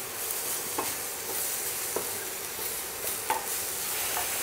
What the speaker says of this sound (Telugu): కలుపుకుంటున్నాం.